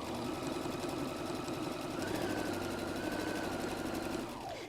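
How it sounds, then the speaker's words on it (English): Sewing machine top stitching a messenger bag with a straight stitch, a continuous close whirring drone with a faint rising tone midway, steady throughout. "we have the piece back in the machine, and we're going to go and do that top stitching now."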